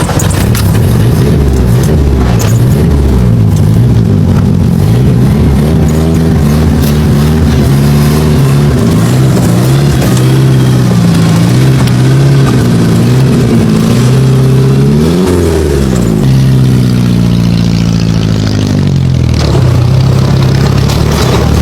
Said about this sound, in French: cette voiture ancestrale roule en pleine ville